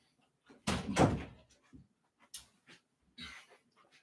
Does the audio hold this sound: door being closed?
yes